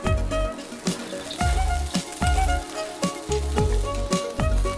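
Chopped onions fry with garlic-ginger paste in a hot pan, a loud steady sizzle broken by regular scraping strokes of a stirring spoon, up close.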